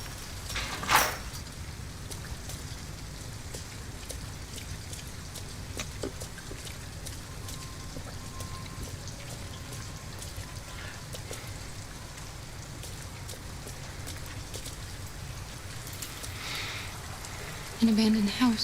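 Steady rain falls outside an abandoned house in the video game Detroit: Become Human, a soft continuous patter with faint knocks and creaks, and a brief voice near the end.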